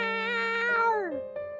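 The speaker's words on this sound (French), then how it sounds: "Mon petit chat." A small cat meows in a drawn-out, falling cry up close, followed by a couple of shorter mews, loud and clear with no talking over it.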